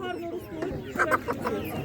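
Chickens and roosters at a Ukrainian livestock market, with clucking and crowing-like calls rising in short bursts over a busy background of market noise and nearby talk.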